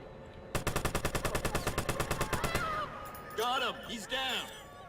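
Rapid automatic gunfire from a Watch Dogs online shootout, a fast steady burst of about two dozen shots, then a few whooshing, swooping effects; a single gamer voice's exclamation is absent, with only game sounds heard.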